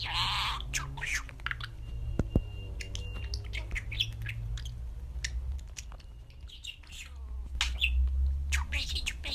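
Pet budgerigar chirping and warbling indoors in a steady run of short tweets and squawks over a low background hum, with no clear talking voice.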